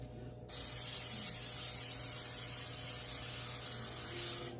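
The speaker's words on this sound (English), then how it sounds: "I have cooking spray" A close, steady hiss of an aerosol cooking spray coating empanadas, held for several seconds after a brief quiet start.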